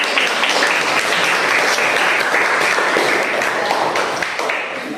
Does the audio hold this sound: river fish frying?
no